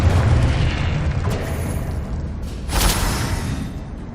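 A Confringo spell blast in Hogwarts Legacy, a heavy booming explosion at the start rolling off, then a sharper burst with crackling debris midway, loud and close.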